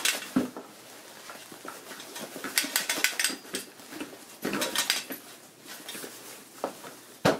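Metal camping stove being worked back into a canteen cup cooking kit, a series of close, sharp metallic clanks and scrapes in irregular bursts with quiet gaps between them.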